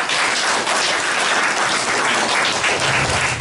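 Steady, dense applause from a crowd at a gathering, a continuous wash of clapping with no pauses and no voices standing out.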